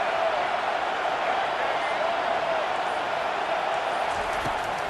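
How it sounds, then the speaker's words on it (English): Football stadium crowd in a college game against UCLA, rising on a defensive third down, a dense, sustained roar at a steady level with a faint thump near the end. "Decibels rising as the crowd gets behind this defense on third down."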